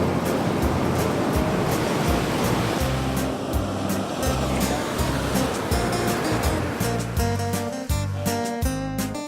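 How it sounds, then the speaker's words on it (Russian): Sea waves churned up by a small storm on the Mediterranean coast between Haifa and Tel Aviv, a steady loud roar of surf crashing and washing without pause throughout, no voices. "А тут еще и небольшой шторм разыгрался."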